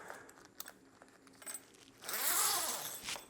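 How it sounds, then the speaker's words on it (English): A zipper being fitted back onto fabric for a shower awning build, a few light clicks and rustles followed by a longer rasping zip pull near the end, close and fairly loud. "I'm gonna go ahead and put the other part of the zipper back on"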